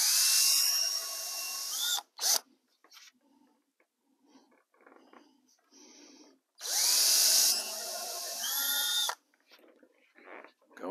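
Power drill driving recycled drywall screws into model railway roadbed: two long whirring bursts near the start and middle, with faint clicks and handling noises between.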